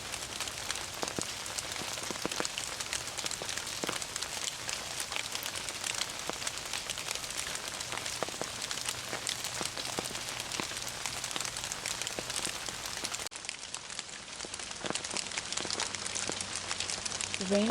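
Steady rain patters on a surface throughout, a dense hiss broken by scattered distinct drop impacts. The sound stays even and moderately quiet from start to finish.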